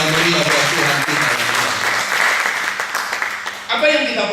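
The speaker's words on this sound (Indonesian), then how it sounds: "Tepuk tangan dulu yang meriah buat Tuhan kita." A church congregation claps loudly in a long, sustained round of applause with faint voices mixed in, the clapping fading slightly before a fresh burst near the end.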